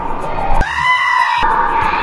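A human voice imitates a goat's bleat, giving one loud, wavering, nasal cry that lasts most of the short stretch, with brief vocal sounds before and after.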